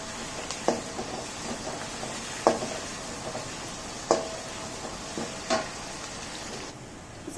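Onions and curry leaves frying in a pan over high flame give a steady close sizzle, with a few sharp scrapes of stirring scattered through it and no talk.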